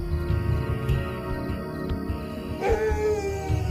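At night in the African bush near hyenas, a Maasai guard dog gives a drawn-out howling bark over a steady chorus of crickets, with a few short yips near the middle.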